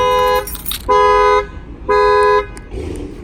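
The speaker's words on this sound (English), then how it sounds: "I'm gonna go ahead and just bang on the glass, and that will fire off the alarm" An Infiniti car alarm sounds in loud, tonal horn-like bursts, with three evenly spaced blasts about half a second each, close and with no talk.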